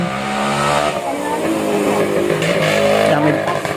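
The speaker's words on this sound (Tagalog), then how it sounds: "may dumaang motor eh. Maingay yung motor." A loud motor engine roars close by, its pitch shifting as it passes, with people talking over the noise.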